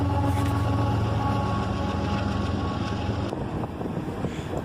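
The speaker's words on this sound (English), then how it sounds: "we'd be down by the bridge to catch a CSX intermodal train" A CSX intermodal freight train rumbles past near a bridge, a continuous loud low roar with wind buffeting the microphone, easing slightly toward the end.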